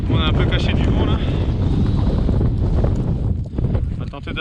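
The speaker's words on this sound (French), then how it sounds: "Tempête de vent, pluie, grésil" Strong mountain wind buffets and roars across the microphone in a steady, loud rush, with gusts swelling and easing during a storm of rain and sleet near Trélod; voices talk briefly beneath it.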